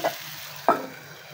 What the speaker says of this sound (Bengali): এখানে করলা ভাজি করে নিচ্ছি